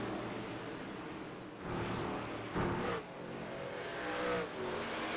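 Race cars on the oval at Phoenix Raceway running side by side, a steady loud engine drone with rising and falling revs as they pass, no talking over it.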